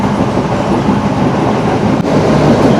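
A train running past Kosgoda railway station in Sri Lanka, heard from on board as a loud, steady, unbroken rumble of wheels and carriages with no voices.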